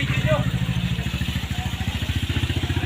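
Several engines brought in to refloat a grounded ship at Porto del Sol run close by, a loud, steady, rapidly pulsing mechanical chug with a faint voice over it.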